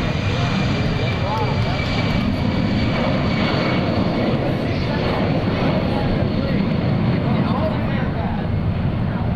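A loud, sustained jet roar of a four-engine C-17 Globemaster III military transport taking off at an air show, broad and steady throughout, with a voice talking over it.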